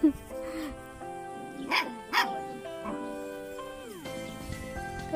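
A puppy gives two short, high yaps in quick succession amid people talking outdoors, with the barks standing out clearly over the voices.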